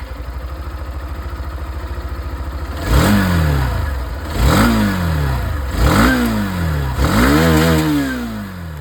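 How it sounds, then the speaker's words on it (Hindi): A Hero Xtreme 160R 2V Stealth Edition motorcycle idles with a steady putter, then gets four sharp throttle blips in a row. Each rev climbs quickly and falls back, loud and close. "अब मैं आप लोगों को यहाँ पर जो एक्सट्रीम 160 या 2V है, इसकी जो आवाज़ है वो भी मैं आप लोगों को सुना दूँ।"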